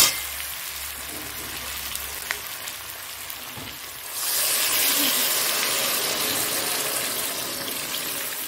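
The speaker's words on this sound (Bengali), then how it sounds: "এবার জল দিয়ে দেবো" Water poured into a pan of frying rui fish curry with greens: a low simmer, then a loud, steady rushing gush from about four seconds on that holds to the end, with no talk.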